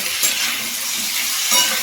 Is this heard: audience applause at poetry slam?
no